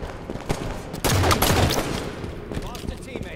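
Rapid gunfire in Halo 5 Guardians SWAT mode, a dense burst of overlapping shots near the middle with scattered single cracks before and after, loud and close.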